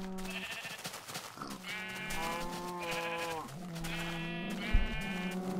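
Several wavering sheep bleats from Minecraft overlap and follow one another over a quiet game background, fairly close and moderately loud.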